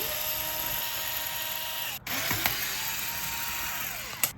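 An electric power drill whirs steadily while backing deadbolt screws out of a door lock, a continuous high whine broken by a brief stop and a few clicks as the bit catches, recorded close.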